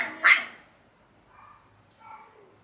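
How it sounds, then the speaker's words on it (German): A big dog and a small dog barking back and forth with a neighbouring dog: one sharp close bark at the start, then two fainter, softer yips later on. "Die Hunde unterhalten sich."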